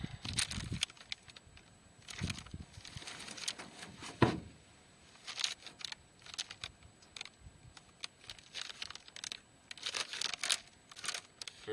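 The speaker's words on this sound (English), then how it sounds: "Get these Googan baits opened up." Plastic packaging around Googan fishing soft baits is torn and crinkled open by hand in short bursts of tearing, rustling and crackling, close by and fairly quiet, with no talk.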